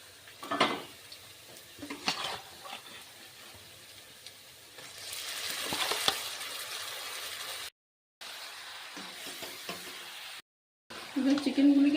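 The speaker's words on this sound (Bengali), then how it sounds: "এবার আমি আগে থেকে ম্যারিনেট করা চিকেনটা দিয়ে দেবো।" Marinated chicken dropped into a pan of browned frying onions: a few clattering pan and utensil knocks, then a soft rising sizzle and stirring, fairly quiet, with brief silent gaps.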